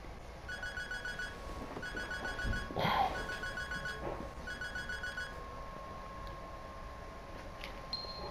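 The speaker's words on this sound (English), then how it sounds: "Who that calling my phone?" A phone rings in the open-world crime video game Sleeping Dogs Definitive Edition: a repeating electronic ringtone in regular short bursts, quiet over a steady background hum, with one louder thump partway through.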